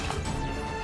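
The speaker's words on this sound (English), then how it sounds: "That's the sound of the universe breaking." A brief, harsh crashing burst of the universe-breaking effect from the video game Super Robot Wars Z3.2, lasting under a second.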